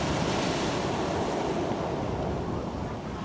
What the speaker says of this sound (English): See how the waves are?